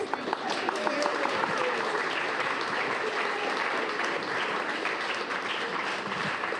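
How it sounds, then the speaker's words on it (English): Steady applause from an audience at a nonprofit's annual meeting in Bloomington, a dense wash of clapping sustained for several seconds with voices mixed in. "let's give her another round of applause"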